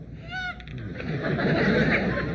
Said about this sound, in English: Also attached to my pith helmet is a Winslow multi-purpose bird tweeter.